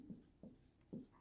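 Pen writing numbers on paper, three short scratchy strokes spaced apart, faint and close with no talking.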